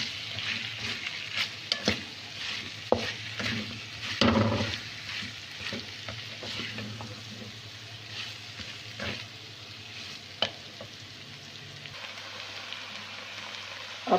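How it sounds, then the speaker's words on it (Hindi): Shredded chicken and whole green chillies stir-fried in a pan: a constant rain-like sizzle with frequent clinks and scrapes of a spoon as the mix is tossed, close and fairly quiet with no talking. "ये डाल के अच्छे से इसको मिक्स करेंगे और थोड़ा सा इसको भून लेंगे"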